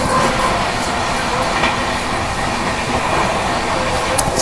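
The Darshan Express train passes close by, a steady loud rumble of wheels and rolling carriages throughout, with faint clicks over the continuous roar.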